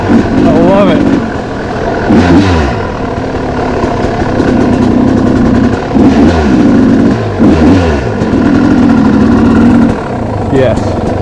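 A 1999 Yamaha YZ250 two-stroke dirt bike engine revs up and down repeatedly, loud and close, with idle stretches between the blips.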